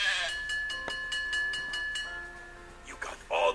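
Sheep bleat as part of a sequence of farm animal sounds, a wavering tone held for about two seconds and then fading, with a brief bright noise near the end.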